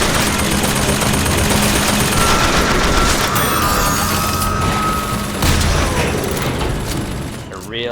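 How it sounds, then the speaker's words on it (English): Gunfire in Bioshock Infinite video game: a steady, loud stream of rapid shots and impacts running throughout, mixed with other game noise and voices. "Which one's shooting me?"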